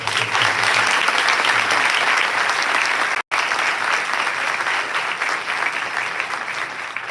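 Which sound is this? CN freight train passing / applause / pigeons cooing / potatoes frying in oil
applause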